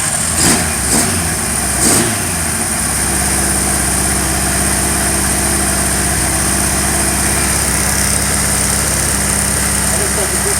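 Warmed-up motorcycle with a dead second cylinder firing up: a few spark clicks, then the engine catches and settles into a steady, loud, close idle with a rough throbbing pulse, voices talking over it.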